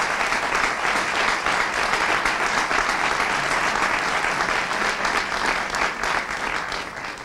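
Sustained, dense applause from the audience at an adult jota singing contest in Funes, steady and loud throughout with no talking.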